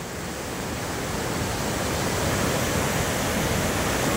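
Steady, loud roar of the flooded Musi River rushing at Chadarghat Bridge in Hyderabad, filling the whole clip, a dense continuous wash with no pauses or voices.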